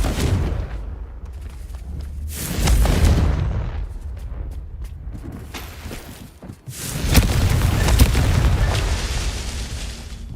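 Confringo blasting spell explosions from the video game Hogwarts Legacy, a series of loud booming blasts with rumbling tails, several bursts spaced across the stretch amid game noise.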